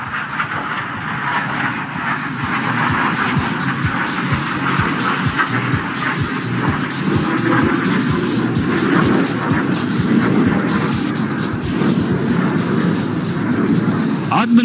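An HAL Tejas fighter jet passes inverted at the Dubai Airshow 2021, its steady broad engine roar filling the air for the whole stretch and holding a constant level, with crowd noise beneath it.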